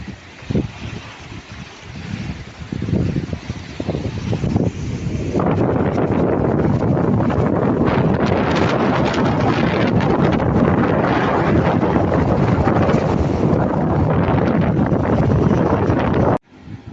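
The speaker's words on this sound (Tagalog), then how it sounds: "Malakas po ang hangin ngayon." Strong monsoon wind on the coast roars steadily, buffeting the microphone in a loud, continuous rush that builds after a few seconds and holds until it cuts off abruptly.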